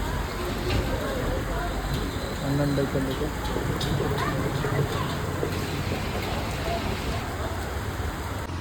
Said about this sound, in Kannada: ಮಳೆ ಬರೋಬ್ಬರಿ ಬರ್ತದೆ